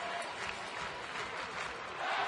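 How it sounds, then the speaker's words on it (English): Distant, steady crowd noise at a Yankees vs Rays baseball game, a broad wash of cheering and booing from the stands that swells slightly at the end. "The Let's Go Yankees cheer is trying to get drowned out by booing from the Rays fans"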